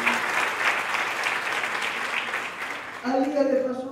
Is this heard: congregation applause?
yes